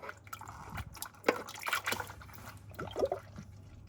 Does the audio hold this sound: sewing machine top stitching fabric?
no